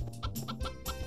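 Chickens clucking in the farming game Harvest Moon 64, a few short, close clucks in quick succession with no voices.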